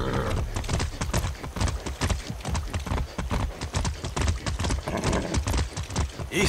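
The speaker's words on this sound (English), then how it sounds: "That's a good horse." Horse hooves clip-clop steadily in Far Cry 6, a close, continuous rhythmic clatter of rapid beats throughout, with a brief neigh near the start.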